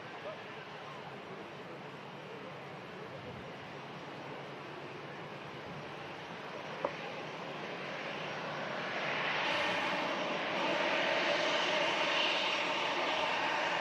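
An easyJet airliner arriving from Palma de Mallorca at Manchester Airport in strong gusty wind, its engine roar a broad steady wash that swells louder in the final seconds as it draws nearer.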